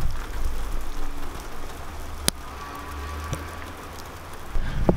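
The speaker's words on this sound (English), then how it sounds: "It is like hailing bad. Oh. And rain at the same time, and the sun is shining though." Hail mixed with rain pours down outdoors in sunshine, a steady broadband patter with a few sharper close impacts and occasional louder bursts.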